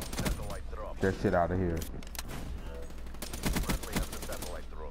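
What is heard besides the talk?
gunfire in video game Call of Duty: Black Ops 3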